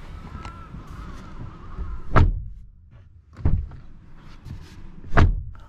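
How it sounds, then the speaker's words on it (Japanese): The rear door of a 2021 VW Golf 8 is shut, giving solid, deep thunks heard close up, three closings spaced a second or so apart in a quiet setting. "ドア閉めた音"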